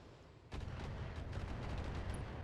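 Mech weapons fire on a target in the Thorium Mercs game, a sudden broadband blast that settles into a sustained, loud rumbling barrage with faint crackling bursts layered over it.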